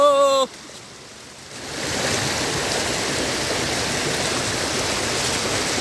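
A forest waterfall in the Mangalam Dam forest, falling from about 1000 feet, roars as a dense, steady wash of water. It follows a brief voice and a short lull.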